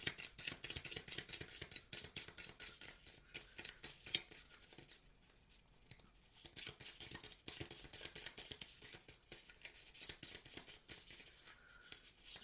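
Tarot cards are shuffled by hand in rapid riffling bursts, close and crisp, with dense flicking patter broken by brief pauses.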